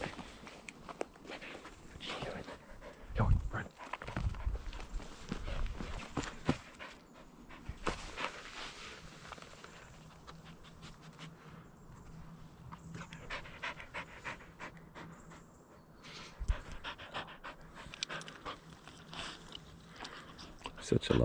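A dog panting steadily and close by on a wild camping trip at a beach, with footsteps and chewing sounds mixed in while a person talks over it.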